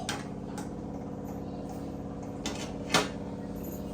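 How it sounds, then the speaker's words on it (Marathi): A utensil scrapes and clinks against a metal pot while stirring a frothing vegetarian dish, mostly soft and steady, with a few sharper knocks near the end. "त्याचा फेस येतोय ना त्याला म्हणून हलवत राहायचं दोन मिनटं"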